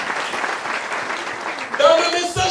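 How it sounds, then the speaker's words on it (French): Church congregation applauding and cheering during a French-language worship service, a steady wash of clapping that swells louder near the end alongside scattered voices. "Est-ce qu'on peut acclamer le Seigneur?"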